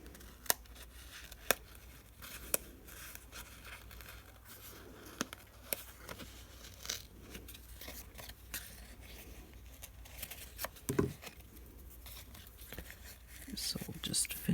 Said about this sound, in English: I just cut a little bit of the edge of the cardstock here.